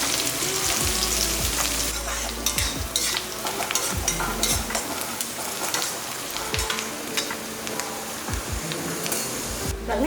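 Sliced big onion tossed into hot oil with spices and curry leaves, sizzling steadily close up while a spoon stirs and scrapes the pan in irregular clacks throughout.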